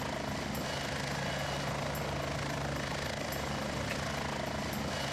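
Military helicopter engine and rotor in the Heliborne combat game, a dense continuous roar with faint rhythmic blade thumps, loud and steady throughout.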